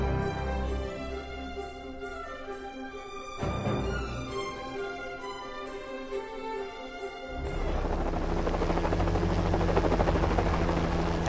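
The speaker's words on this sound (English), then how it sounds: "Helicopter coming in" A helicopter arriving in the video game Lego Jurassic World, a steady rotor drone under game music that swells into a loud, broad whooshing roar as the aircraft closes in over the last few seconds.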